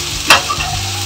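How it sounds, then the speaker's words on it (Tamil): Food frying in a pan for a simple home lunch, a steady sizzle with one brief louder scrape or stir near the start. "ஃப்ரை பண்ணி எடுத்துக்கணும்."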